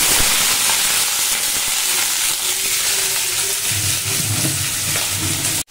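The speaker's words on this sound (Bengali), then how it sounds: "তো আগে সবজিগুলোকে ভাজা বসিয়ে দিই।" Vegetables fry in a pan with a loud, continuous sizzling hiss, sometimes joined by stirring scrapes and bubbling, close to the microphone.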